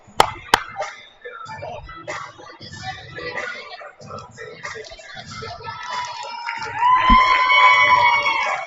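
A crowd cheers and shouts at a youth girls' ice hockey game in a rink. The noise swells into sustained whoops and yells over scattered chatter, with a couple of sharp bangs near the start.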